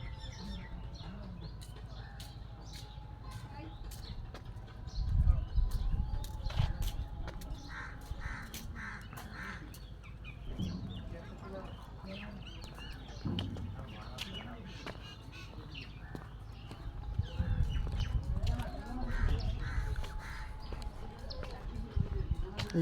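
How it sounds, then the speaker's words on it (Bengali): Crows cawing repeatedly alongside smaller birds chirping in a leafy garden with a rural feel inside a city, calls coming from mid-distance over a low ambient hum, with occasional voices in the background. "এই জায়গাটিতে প্রচুর পরিমাণ পাখির কলকাকলি শোনা যায়"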